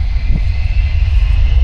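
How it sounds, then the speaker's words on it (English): A jet aircraft takes off at the EAA AirVenture air show in Oshkosh, Wisconsin, a loud, continuous low engine roar and rumble that stays steady throughout. "Sounds like another jet's taking off for the afternoon part of the air show"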